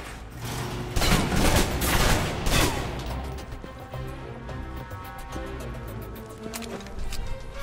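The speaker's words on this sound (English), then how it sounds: "If you're trapped in close quarters with multiple opponents, the SMGs can help clear the room quickly." Submachine gun fire in the video game Alpha Protocol, rapid bursts of shots in close quarters for a few seconds, then fading into quieter game sounds and music.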